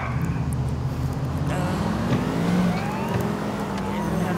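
A car driving in GTA IV, pulling over a minivan, with a steady engine drone and rising and falling revs, a passing vehicle midway, and faint speech underneath.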